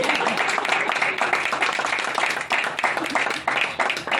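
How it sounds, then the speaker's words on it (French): Applause from an association general meeting audience, a close, continuous burst of clapping with a voice mixed in. "sous un tonnerre d'applaudissements"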